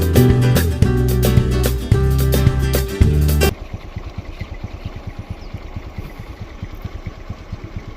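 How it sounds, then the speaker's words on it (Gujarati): A Honda Activa scooter engine runs close by with a steady, rapid putter that emerges after a loud, harmonically rich sound cuts off partway through. "હું જાઉં એક્ટિવા લઈને દાદી માટે."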